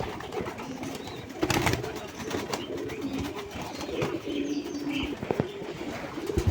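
Pigeons cooing inside their coop in the morning, soft repeated low coos from a few birds with faint rustling and scattered knocks, no talking.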